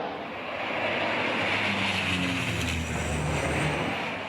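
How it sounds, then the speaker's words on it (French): A Canadair firefighting water bomber flying over a wildfire, its engine drone swelling loud and steady as the plane passes close, with no voices. "Les avions se suivent de très près et enchaînent les largages à 30 secondes d'intervalle"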